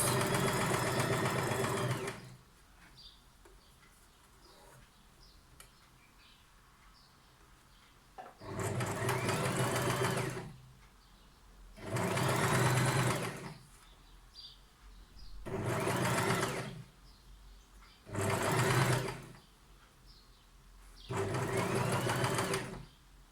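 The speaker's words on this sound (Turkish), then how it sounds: "Şu şekilde biyemizi hafiften çekerek dikiyoruz." A sewing machine stitches bias binding onto a trouser pocket flap in six loud, close bursts of rapid mechanical whirring, separated by quiet pauses with faint handling noise.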